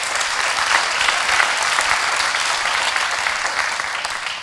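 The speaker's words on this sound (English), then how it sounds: "So please give them a round of applause." A town meeting audience gives a round of applause, with dense, steady clapping from many people filling a hall at constant loudness throughout.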